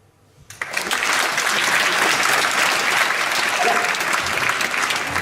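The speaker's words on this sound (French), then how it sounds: "si tu les entends applaudir, c'est que c'est bon" Sudden, sustained applause erupts from a theatre audience at a mentalism magic show and continues loudly and evenly to the end.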